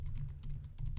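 Quick, faint keystrokes patter on a computer keyboard while text is typed into the Nano editor on Linux, a short run of soft close clicks with no voices.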